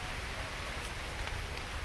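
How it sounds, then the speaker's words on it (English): Steady rain falling at a beach in General Luna in the Philippines, a soft continuous hiss of drops without distinct impacts and no voices. "We are at the beach and it is raining."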